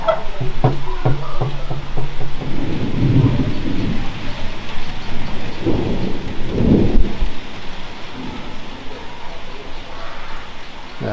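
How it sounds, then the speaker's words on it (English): A heavy thunderstorm with steady rain pours throughout, while deep, booming cracks of thunder roll in loudly several times, close by. "There's been some mighty cracks of thunder."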